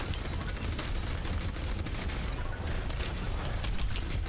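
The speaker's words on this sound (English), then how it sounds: "I'm just gonna chuck fucking cannon shots at them" Cannon shots in Overwatch during an ultimate: a dense, continuous barrage of booming blasts and bursts layered over game noise, loud and busy throughout with no clear gaps.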